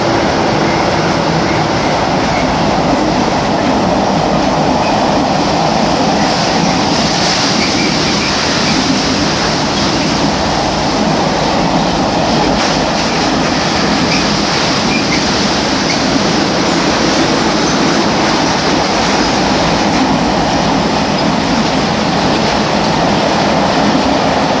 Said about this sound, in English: It's like a works train going on the freight line. Oh, it's a 92.